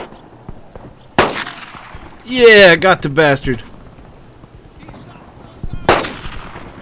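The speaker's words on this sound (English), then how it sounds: "Oh, can I get one shot off? Please tell me I can get a shot." Gunfire in the World War II shooter game Brothers in Arms: Earned in Blood, two sharp isolated shots a few seconds apart, with a player talking excitedly between them.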